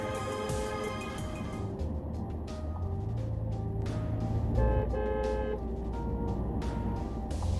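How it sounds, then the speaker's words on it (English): A car horn honks repeatedly on a road over running traffic. Short toots recur in an irregular pattern above a steady engine rumble. "The drivers heard honking as they were probably trying to tell her to get off the road"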